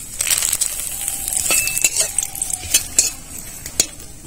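Dried red chillies and bay leaves frying in mustard oil for a Bengali prawn dish, a close, continuous sizzle broken by light clinks and scrapes of a spoon against the pan.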